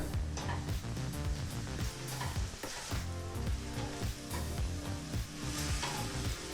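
Mushroom fried rice masala frying in a pan with garam masala and pepper powder, a continuous loud sizzle with stirring throughout and no talking.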